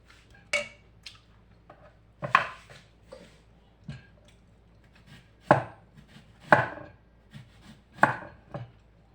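Fresh onions are chopped with a knife on a board in an African home kitchen, with about eight distinct knocks spaced irregularly over a few seconds, close and crisp against a quiet background.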